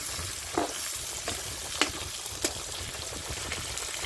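Pork frying with garlic in a pan: steady loud sizzling and crackling of hot oil, with a few soft scrapes of a utensil stirring, close and alone with no talk.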